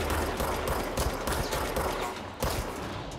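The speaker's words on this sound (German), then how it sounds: "Oh, das ist ein Scharfschütze." Dense gunfire in the Control video game, rapid repeated shots cracking one after another over about three seconds, loud and steady, with a brief lull before another burst.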